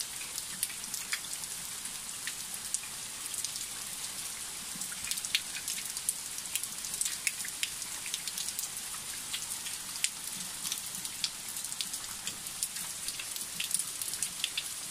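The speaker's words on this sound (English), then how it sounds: "The sun's still there, it's raining always." Steady rain patters evenly on surfaces, with scattered crisp drops standing out, faint and continuous, falling while the sun is still shining; no talking.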